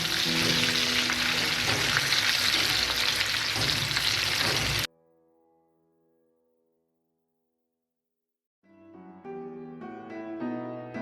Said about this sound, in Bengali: অপর পাশটাও আমরা এরকম গোল্ডেন কালার করে ভেজে নিব।